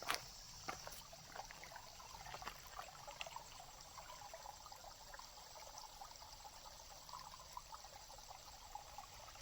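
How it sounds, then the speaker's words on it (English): A waterfall beside a campsite at Hawn State Park flows in a steady, faint trickling rush that continues throughout. A few small clicks and taps sound close by. "go with a waterfall right out here."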